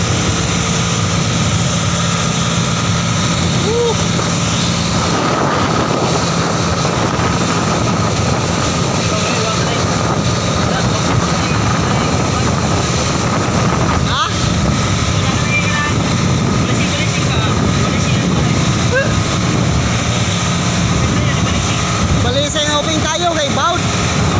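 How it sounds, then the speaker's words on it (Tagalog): Strong wind over rough sea roars steadily against the microphone on a small boat in a continuous loud rush, with a voice speaking intermittently underneath. "sobrang lakas hangin po"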